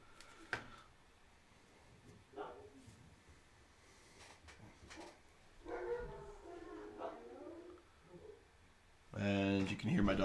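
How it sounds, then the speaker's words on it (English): Several pet dogs bark excitedly in short scattered bursts indoors, rising to a loud volley of yips near the end, with a voice talking quietly between the barks. "And you can hear my dogs going crazy."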